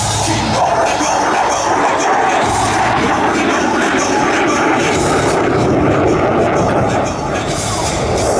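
An F-16 fighter jet pulling a 9G turn at the California Capital Airshow roars as a loud, sustained broadband rumble that stays at a constant level, with an announcer's voice faintly mixed in.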